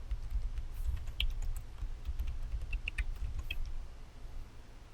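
Administrator password typed on a computer keyboard during a Windows Server 2012 R2 setup on Hyper-V: quick, light keystroke clicks in short irregular bursts over a low steady hum, fairly close, with no talking.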